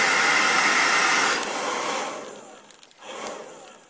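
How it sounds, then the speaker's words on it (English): A blow dryer blasts air at the back of a nail shield to soften it, a loud broadband whoosh that fades and swells as the dryer fans back and forth, dropping away briefly near the end. "you'll blow dry the back of the nail shield using a fanning motion with a blow dryer for 10 to 15 seconds"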